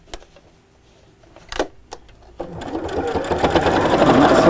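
A sewing machine stitches layers of fabric, starting after a few light clicks and building into a fast, continuous whirring hum that grows louder, close and without speech.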